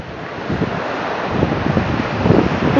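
Rough sea surf at a beach in Mersin, Turkey churns steadily beneath gusting wind buffeting the microphone, with the noise swelling slightly louder toward the end.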